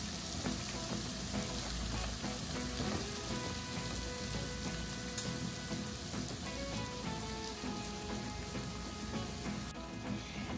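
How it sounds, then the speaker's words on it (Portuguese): Margarine melting in a hot pan gives a soft, steady sizzle and crackle throughout, fairly quiet with no talking. "Vou esperar essa margarina aqui derreter."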